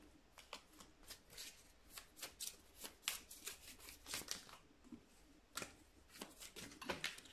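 A deck of tarot cards being shuffled by hand, a rapid series of crisp riffling and slapping bursts with brief pauses, close and fairly loud, with no one talking.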